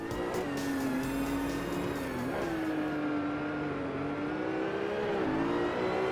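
A Mercedes CLK GTR race car engine in a video game holds a steady, loud, high-pitched whine with a few slight pitch dips as it accelerates on the Nürburgring, continuous throughout.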